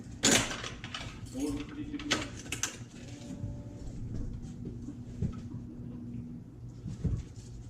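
A Wilson Baiardo stringing machine pre-stretching a racket string: a soft mechanical hum with low tonal whirring that rises, dips and returns, plus light clicks, under someone talking nearby.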